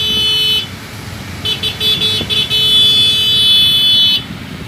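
Street traffic jam in Labuan Bajo, Indonesia, during sidewalk construction: nearby car horns toot and blare in repeated bursts over a low rumble of idling vehicles.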